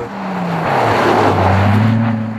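A 4.7-litre V8 in an Italian car drones loudly and close with a steady, deep engine note that rises slightly in pitch as it pulls, with no talking over it.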